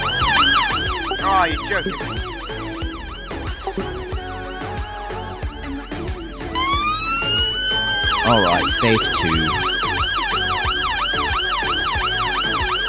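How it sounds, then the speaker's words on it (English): Several wailing police sirens in Roblox City London sweep up and down continuously, loud and layered. Someone speaks briefly over them. "I hear a lot of sirens"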